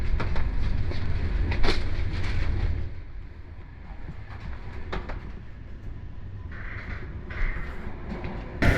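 A fast Swiss train rumbles along the rails with a steady low roar and rhythmic clicks, heard up close from inside; the rumble eases midway and a few faint higher tones appear near the end.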